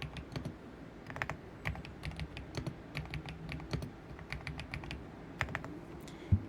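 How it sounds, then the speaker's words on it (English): Fast typing on a computer keyboard, close and crisp, with irregular bursts of key clacks and brief pauses over a low background hum and no speech. "Can you hear the typing good?"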